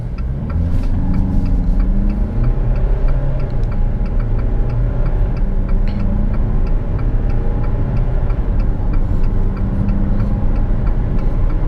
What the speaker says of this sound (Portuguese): Vamos fazer a puxada aqui em D.